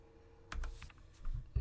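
A short cluster of keystrokes on a clacky mechanical computer keyboard, a few close, moderately loud clicks and thumps in quick succession.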